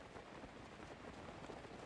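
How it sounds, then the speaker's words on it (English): Rain outside a room's windows patters in a faint, steady wash of drops, heard from indoors with no voices over it. "Can you shut your windows? The rain is really loud."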